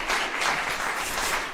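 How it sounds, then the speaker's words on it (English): A concert audience in an auditorium claps, with the live crowd's applause combined with virtual audience applause after a chamber orchestra performance. It sounds like a dense, even wash of many hands clapping, sustained and loud throughout. "adding the applause from the virtual audience to the physical audience in"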